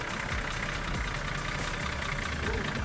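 A vehicle engine idles steadily during a recovery on a scenic drive, a constant broadband rumble with wind-like noise throughout.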